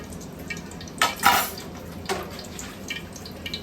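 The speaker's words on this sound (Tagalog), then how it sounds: "Talagay tayo ng mantika." Cooking oil is poured into a pan with a couple of short liquid splashes and light metallic clinks over a quiet kitchen background.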